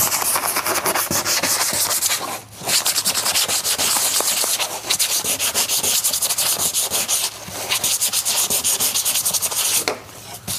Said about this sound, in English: So I'll quickly sand without talking